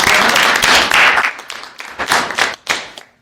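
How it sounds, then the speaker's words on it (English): An audience applauds a Vietnam-era forward air controller at a JROTC gathering, with dense clapping that thins out into scattered claps by the end. "Everybody give him a round of applause, please."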